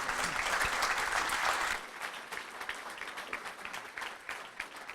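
A small audience at a polo club business meetup breaks into applause, dense and loud for the first two seconds, then thinning into scattered, quieter claps.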